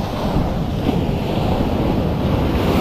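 Large ocean waves crash and surge steadily against the shore at Palawan, forming a loud, continuous roar of surf with wind buffeting the microphone throughout.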